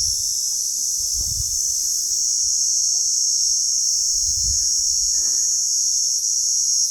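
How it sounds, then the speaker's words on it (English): Insects near Sigiriya rock in Sri Lanka buzz loudly in a steady, shrill chorus that never lets up, with a couple of soft low thumps beneath it. "I'm hoping you can hear how crazy loud these insects are"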